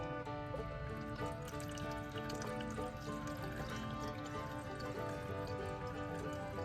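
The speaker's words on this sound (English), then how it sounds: "I'm gonna take this and I'm gonna slowly pour it into there to separate out the meat" Broth being poured slowly through a large strainer into a saucepan to separate out meat, a soft continuous trickle and pour, faint and steady under a background hum.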